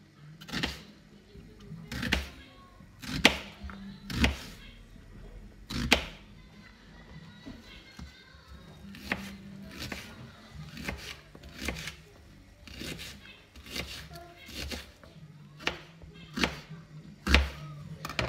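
Knife chopping an onion into small cubes on a board, a string of sharp irregular thuds and clicks, some spaced and some in quick bursts, close and clear with no voices.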